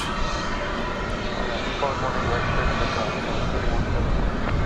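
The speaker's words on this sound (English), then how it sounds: "It's the Reno Air Heritage livery of American Airlines on that there plane, which is taking off for Seattle." An American Airlines jet in Reno Air Heritage livery takes off from DFW Airport for Seattle, its engines a loud, steady broadband roar that swells slightly toward the end, with no voices.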